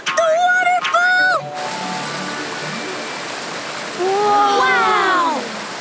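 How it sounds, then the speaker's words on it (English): A waterfall in a jungle setting gives a steady broadband rush throughout, heard behind animated character voices at the start and end. "Do you hear that? Is that a waterfall?"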